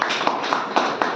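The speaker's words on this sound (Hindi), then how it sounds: "तालियां हो जाए जी" A small audience claps in quick, scattered taps for about a second, close and fairly loud, with a few sharper individual claps standing out from the patter.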